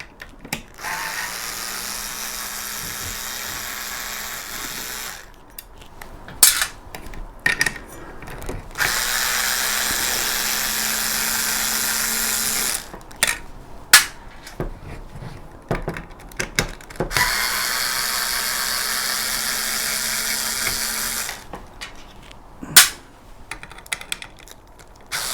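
Quarter-inch cover screws being backed out of a Bell and Howell projector, heard as bursts of ratcheting, whirring driver noise separated by short clicks and handling rattles, close and fairly loud with no talking.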